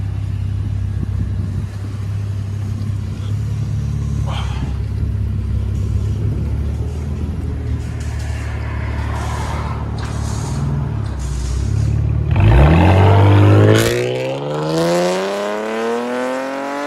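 A 2014 Chevy Camaro RS with a 3.6L V6 rumbles at steady idle, then revs hard and accelerates near the end, pitch climbing sharply as it pulls away.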